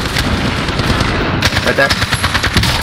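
Rapid gunfire in a first-person shooter video game, including shotgun blasts, a fast run of sharp close shots in bursts, with a brief voice speaking over it.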